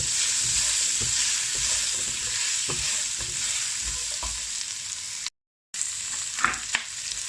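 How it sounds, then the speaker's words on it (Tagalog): A large yellow onion fries in a little oil, giving a steady close sizzle with irregular stirring scrapes and clatters, broken by a brief silent gap near the end. "Ngayon, dagdagan lang ng konting mantika. I-fry ito. Malaking onion, yung yellow onion."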